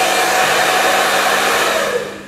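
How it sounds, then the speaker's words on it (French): A hair dryer set to maximum blows at a model wind turbine setup, making a loud, steady broadband roar that holds throughout and eases slightly at the end. "on allume le sèche-cheveux sur maximum"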